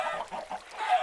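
Chickens clucking in the Minecraft FTB game around a chicken spawner, a few short rhythmic clucks close by with no talk.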